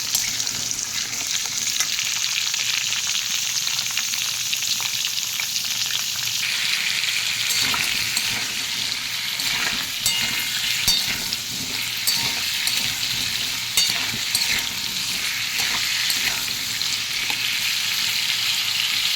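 Potatoes frying in hot oil for an aloo dum, a steady loud sizzle with scraping stirs throughout, close and continuous with no voices.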